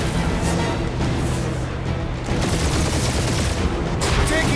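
Gunfire in the Guardians of the Galaxy video game, a dense, continuous barrage of shots and blasts layered into a steady roar of battle, loud throughout with occasional sharper cracks.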